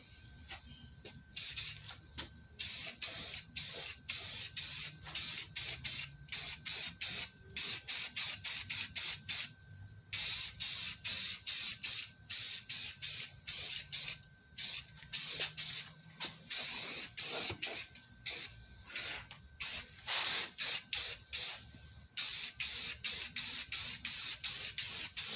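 Aerosol spray coats the center console of a 1993 GMC C3500 truck in repeated close bursts of loud hissing, each a second or two long with brief pauses between passes.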